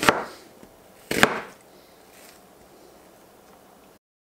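An onion being chopped into small pieces on a board: two sharp knife chops close by, each followed by a short scraping tail, then quiet.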